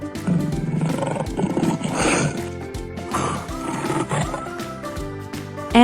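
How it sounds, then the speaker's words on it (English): A lion roars loudly and alone in a wild-animal sound sequence, a rough rumbling call swelling and fading over several seconds with deep, harsh tones. "L is for lion."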